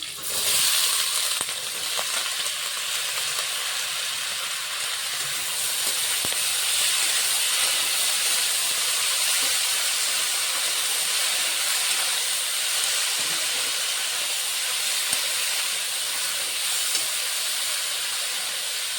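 Radish, potato, pointed gourd and eggplant go into a hot pan with chopped green chili and fry. A steady, close, hissing sizzle continues on its own with faint stirring clicks.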